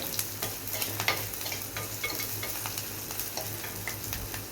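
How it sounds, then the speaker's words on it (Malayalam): Crushed dried red chili sizzles steadily in hot oil for a Kerala-style stir-fried side dish, with scattered sharp crackles and pops over a continuous frying hiss, close and fairly quiet, no talking. "ചതച്ച മുളക് ഇട്ട് കൊടുക്കുന്നുണ്ട് അത് ഈ എണ്ണയിലൊന്ന് മൂത്തോട്ടെ"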